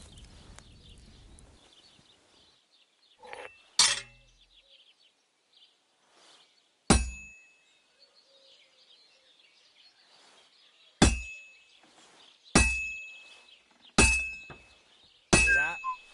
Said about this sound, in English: Besides the sparks, you can tell a good strike by the sound it makes. That's the ring you want.